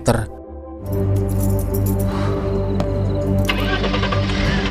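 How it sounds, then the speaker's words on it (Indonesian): A car engine cranks briefly and catches, then settles into a loud, close, steady running rumble. "Gabby menyalakan mesin dan bersiap kembali ke Florida."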